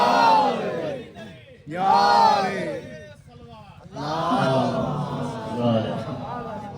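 A crowd of mourners at a Shia majlis gathering in Ashiq Nagar roars religious slogans in loud, repeated surging bursts of many voices, with broad cheering swells separated by short pauses.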